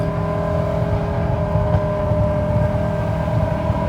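A BMW E60 M5 engine drones steadily while driving at low speed, a loud, constant rumble with a rich hum and no pauses.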